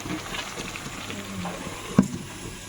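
Chicken kosha, a Bengali spiced chicken dish, fries in a pan with a soft, steady sizzle and hiss. There is a single small clink near the end.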